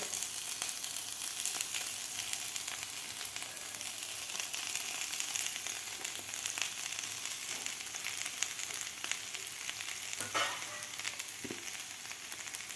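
Crumbled boiled potatoes fry in a pan with chilli and ginger for fasting batata vada. A soft, even sizzle runs continuously, with faint scraping of stirring near the end.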